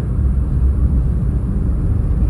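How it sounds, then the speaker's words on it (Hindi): Strong dust storm wind buffets a closed car, a steady loud low roar and rumble that fills the whole stretch without a break and carries no voices. "भाई आंधी आ गई"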